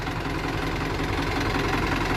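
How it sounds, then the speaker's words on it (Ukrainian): Tractor engine running steadily under load while ploughing a field, a loud, dense low rumble with constant vibration and no pauses, heard alone without talk. "Трактор іноді біжить, а іноді так газу даєш, а він... Не, а, не хоче."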